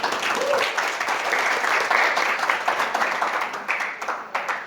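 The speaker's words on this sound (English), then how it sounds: "Give him a clap." An audience at a youth economy workshop claps steadily for several seconds, a dense, moderately loud round of applause that fades slightly toward the end.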